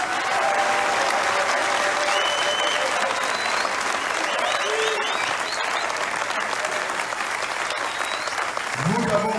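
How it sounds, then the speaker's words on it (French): A large crowd at a political debate in Kisangani applauds continuously, a loud, dense clapping roar with occasional whistles and shouts mixed in, lasting the whole stretch with a voice briefly rising at the very end. "je demande à vous tous ici d'applaudir tous les Congolais du monde entier"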